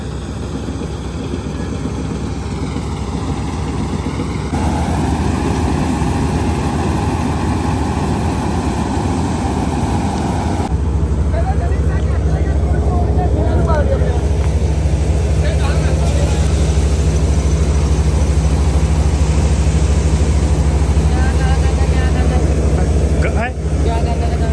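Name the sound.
loaded tractor engine idling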